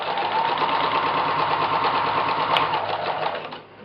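Sewing machine stitching on paper, running as a steady continuous whir at close range for nearly the whole span before easing slightly at the end, with no voices.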